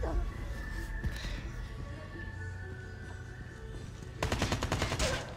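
Gunfire in Call of Duty Mobile: scattered shots and a low game soundtrack, then a loud rapid burst of automatic fire near the end.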